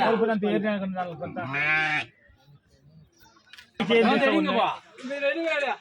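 Sheep bleat at the Kadiri livestock market in two loud, close bursts of wavering, harmonic cries separated by a quiet gap of faint market background.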